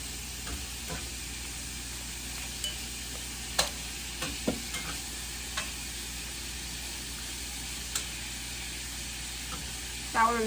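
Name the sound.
food frying in butter, being stirred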